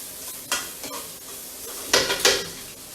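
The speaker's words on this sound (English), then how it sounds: "the bacon is beginning to become a little crispy, and you can hear the pop sound as well" Bacon turning crispy in a frying pan sizzles steadily with a hiss. Sharp pops and spatters break through the sizzle, with a couple of louder bursts near the end.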